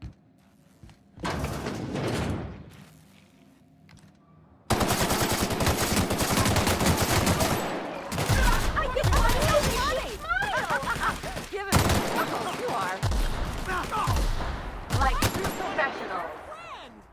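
Gunfire in The Outer Worlds game: rapid bursts of automatic shots crack close and loud, broken by short pauses, with thuds and impacts mixed in.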